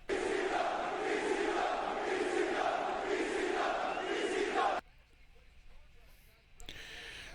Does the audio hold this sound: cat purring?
no